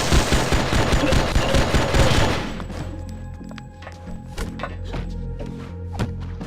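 Enemies firing guns in a video game, a dense, loud burst of rapid automatic fire that gives way to scattered sharp individual shots and thuds over a steady low hum.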